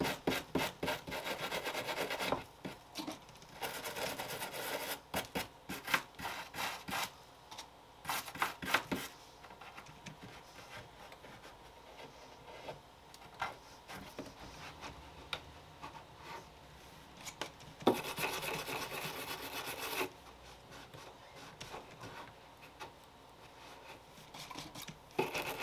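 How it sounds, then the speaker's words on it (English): Stiff-bristle brush scrubbing a wooden desk with mineral spirits during a furniture makeover, a steady rasping rub in bursts with brief pauses, close and moderately loud, no talking. "I need to probably go over it with a strong bristle brush and some mineral spirits."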